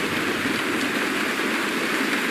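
Steady rain in the video game Honkai: Star Rail, a dense, even hiss that holds at one level from start to finish with no other sounds on top.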